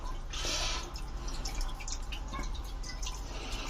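Water splashing and trickling from a small garden solar fountain, a steady close wet patter with brief spurts of louder spray, no talk over it.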